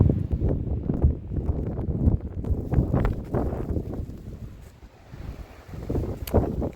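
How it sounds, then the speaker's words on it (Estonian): Strong headwind gusts roar across an icy slope in Sarek National Park, Sweden, a loud, buffeting rush of wind noise hitting the microphone with no voices. "sellepärast et hästi tugev vastu tuul"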